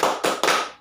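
A classroom of students does the 'tepuk semangat' spirit clap together, three sharp unison claps in quick succession, loud and close with no talk.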